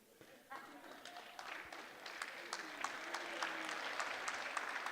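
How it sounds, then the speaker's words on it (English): Scattered clapping from a small crowd builds and grows steadier, with voices murmuring underneath. "We clap for you."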